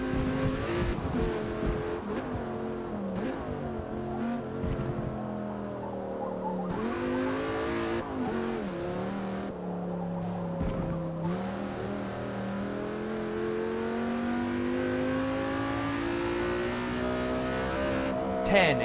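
A naturally aspirated car engine with ten individual throttle bodies on a rail and no turbos revs repeatedly, rising and falling in loud close sweeps, with a voice talking briefly over it.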